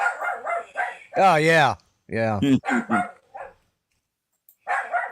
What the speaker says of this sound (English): I'm going to kill that damn dog